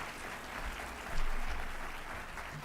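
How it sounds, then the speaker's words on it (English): Faint, distant applause rises from an audience at a high school academic awards ceremony, honoring the custodial staff; a soft, continuous wash of clapping that swells slightly midway. "how about a huge round of applause for our great custodial staff here at Goffstown"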